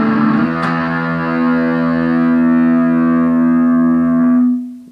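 An electric guitar through heavy distortion rings out a sustained chord from a riff, loud and buzzing with rich harmonics, held for several seconds before cutting off abruptly.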